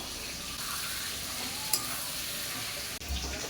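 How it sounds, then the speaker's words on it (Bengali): Prawns frying in a pan with salt, turmeric and about one and a half spoons of red chilli powder for a taro-leaf dish, giving a steady close sizzle with light stirring scrapes throughout. "এদিকে তো চিংড়ি মাছ ভালোভাবে ভাজা হয়ে গেছে"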